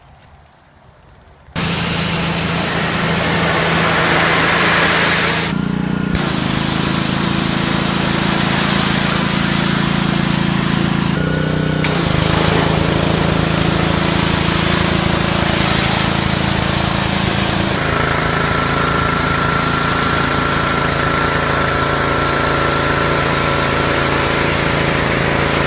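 A 1976 AMC Pacer with a newly fixed fuel line and exhaust fires up after a brief quiet moment, then settles into a loud, steady idle, with a couple of short revving surges along the way.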